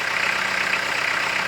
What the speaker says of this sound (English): the tractor was on idle the whole time.